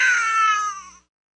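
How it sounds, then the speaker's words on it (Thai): An infant cries in one sustained, strained wail at close range that tapers off and stops after about a second, with no other sound around it. "ทันใดนั้นก็มีเสียงร้องไห้ของทารก"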